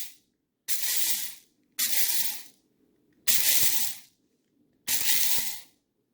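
Flax seeds being ground into flour in an electric grinder, four bursts of about one second each separated by short pauses, loud and close, with no talk.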